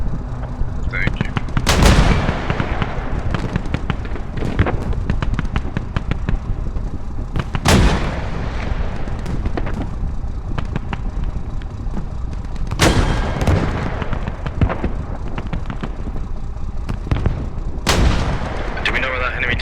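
Mortar rounds firing in the video game Squad, loud booming launches repeating every few seconds over continuous distant gunfire and battlefield noise.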